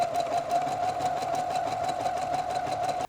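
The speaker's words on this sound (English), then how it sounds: "I'm going to zigzag stitch around the edge all the way around" A sewing machine runs a zigzag stitch around a fabric edge, a close, steady mechanical whir with a rhythmic needle chatter that cuts off abruptly at the end.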